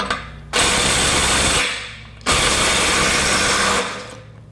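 Ridgid sub-compact stubby impact wrench backing off a bolt torqued to 150 foot-pounds, two loud sustained bursts of about a second and a half each, close up, with a short pause between and no speech.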